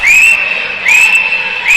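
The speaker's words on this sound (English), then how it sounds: "another penalty will be assessed, so we'll have another whistle" A referee's whistle at a hockey game between the MN Blades and Finland sounds three sharp, loud shrill blasts in quick succession, each a bright sustained tone, with faint crowd noise underneath.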